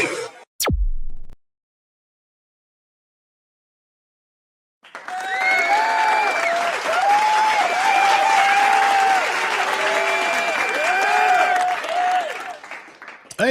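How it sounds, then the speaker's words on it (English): After a short burst of sound and several seconds of silence, a crowd breaks into welcoming applause and cheering for a sports show host, loud and sustained with voices mixed into the clapping until the end. "I appreciate that welcoming and that welcoming applause"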